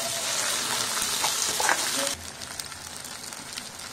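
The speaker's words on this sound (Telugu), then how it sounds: "ఆ మసాలా అంతా వేసుకొని ఫ్రై అవ్వనిద్దాం." Masala with ginger garlic paste and whole spices frying in a pan for chicken curry, a loud steady sizzle that drops to a quieter crackle about two seconds in.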